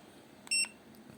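A Meegoo TPMS tire pressure monitor sounds its low-pressure alarm for a front tire at 30 PSI: a single short, bright electronic beep over a quiet background.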